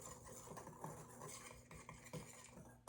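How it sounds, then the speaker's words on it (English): A whisk stirs dry gluten-free flour blend in a bowl, giving quiet, rapid scraping and light ticking against the sides in an irregular rhythm, close and faint with no talk. "I'm gonna take my whisk and I'm just gonna whisk everything to blend it all together"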